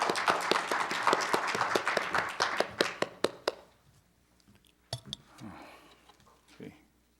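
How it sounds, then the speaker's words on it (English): A conference audience at a journalists' world congress in Korea claps to welcome a speaker to the stage: a burst of many hands that thins into scattered individual claps, then a few isolated claps and faint murmuring. "Please welcome him with a big round of applause."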